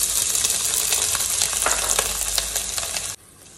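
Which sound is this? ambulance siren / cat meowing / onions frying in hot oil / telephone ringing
onions frying in hot oil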